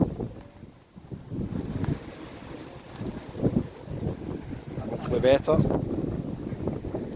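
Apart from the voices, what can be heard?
wind on a beach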